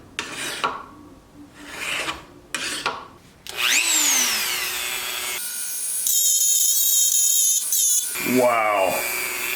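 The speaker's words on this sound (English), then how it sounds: "Wow, this is a carbide burr. I've never used one before." A rotary tool with a carbide burr grinds grooves into the steel tang of a Damascus chef knife, with a high, shifting whine, rasping bursts and changes in pitch as the tool spins up and cuts.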